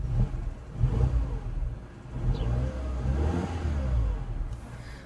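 A 2011 Mini Cooper engine runs on its own, revving up and settling in several swelling bursts, with a steady mid-pitched drone that rises and falls close to the microphone.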